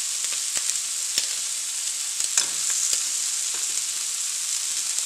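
Meatballs for a meatball sub cooking in a pan, a constant close sizzle with a few clicks and scraping stirs, no voices.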